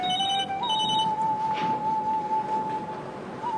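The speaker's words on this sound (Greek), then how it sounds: "Κάποιος ξέχασε το κινητό του." A mobile phone left beside a chair in a café rings with a repeating electronic tone over low background room noise, with no one talking.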